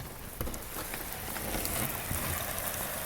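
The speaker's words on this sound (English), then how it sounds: "It's raining outside a lot." Steady, dense rain pours outside a newly built four-season teardrop trailer, a continuous broadband hiss just beyond an opened door, loud and unbroken throughout.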